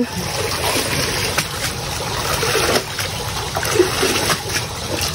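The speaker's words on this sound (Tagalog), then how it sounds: "Para matanggal po yung mga putik na yung isda." Water splashes and trickles as freshly caught milkfish are washed to remove mud, a steady wet sloshing with scattered small splashes, close and continuous.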